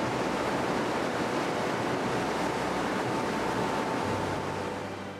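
Water rushes past the aircraft carrier Gerald R. Ford at sea during sea trials, a steady loud wash of surf and wind that fades slightly at the end.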